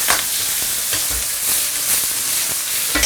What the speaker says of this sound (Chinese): 倒点干净油、姜片、蒜片还有葱段，给它爆香